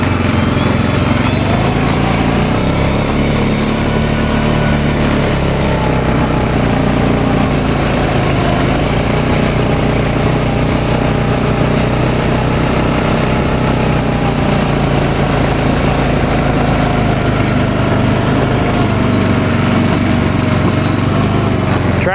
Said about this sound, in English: I didn't try this with a two-wheel drive tractor.